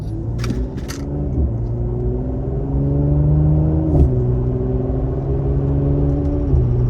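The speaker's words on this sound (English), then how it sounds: "taking some turns and doing some pulls in the C43, a pre-facelift" A pre-facelift Mercedes-AMG C43 W205 engine rumbles steadily from inside the car on a late-night drive, with low droning tones that shift up and down as it pulls and eases through turns, and a few faint clicks early on.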